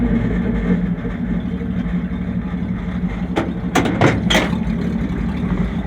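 A 1966 Chevy C10 pickup idles close and loud with a steady low rumble, a few brief sharp clicks or knocks breaking in near the end.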